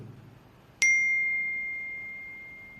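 A single bright iPhone notification chime rings out clearly against near silence and fades slowly over about two seconds.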